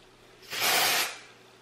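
A single short burst of dry shampoo aerosol spray hisses for about half a second, close and fairly loud, with quiet before and after.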